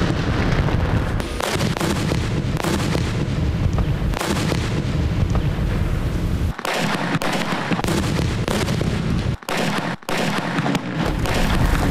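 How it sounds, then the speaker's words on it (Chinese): Army combat engineers set off demolition charges at a training centre in Yanchao, Kaohsiung, a loud rapid series of booming blasts and cracks that overlap continuously with brief gaps. "我们要让你听炸弹的爆炸声来欢度农历新年"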